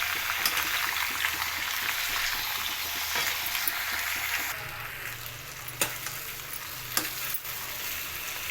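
Potatoes being stirred and fried in a pan, a steady close sizzle with scraping stir strokes, occasional sharp clicks of the utensil against the pan.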